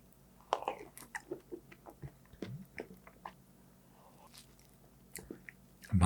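Someone eats a mango crepe cake from Sungsimdang bakery with soft, close chewing and a few quiet bites and mouth sounds over a hushed background.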